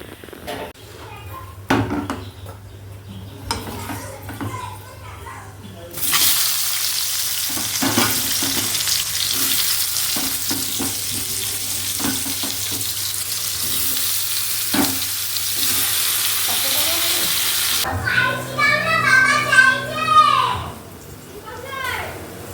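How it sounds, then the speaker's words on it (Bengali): Pointed gourd (potol) frying in a home kitchen pan: a loud, steady sizzle runs through the middle of the clip, with utensil clinks and someone talking before and after it. "কাঁঠালে আঠি ভাজা ছেলে ভালোবাসে আর এদিকে পটল ভাজা"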